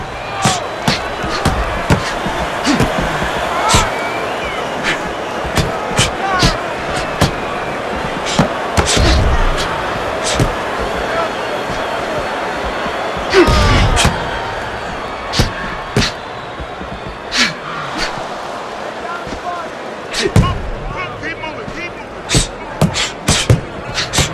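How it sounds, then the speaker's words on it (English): Boxing punches in the Xbox 360 game Fight Night Round 4, a Rocky Balboa versus Apollo Creed bout: sharp thuds and slaps landing in irregular flurries over a steady crowd hum, with a commentator talking throughout. "Some fine fundamentals, good counter punch."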